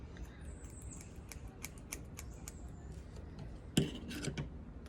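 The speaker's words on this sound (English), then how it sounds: "you go ahead and cut. Snip it up. Oh, these scissors are not that good." Scissors snip fly-tying material for a saltwater tarpon, redfish and snook fly, with quiet, scattered close-up clicks and one sharper crunch near the end.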